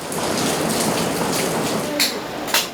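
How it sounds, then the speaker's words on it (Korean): Heavy rain falling on a seaside fishing village in Pohang, North Gyeongsang, a loud steady downpour hissing on surfaces with a couple of louder splashing bursts near the end. "얄밉게도 비까지 주룩주룩 내립니다."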